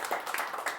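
Audience applause at a stand-up comedy competition, a short burst of scattered clapping that swells in small waves, fairly faint and with no voices over it.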